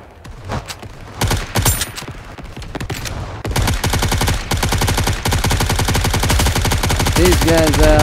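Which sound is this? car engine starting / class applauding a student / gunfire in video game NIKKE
gunfire in video game NIKKE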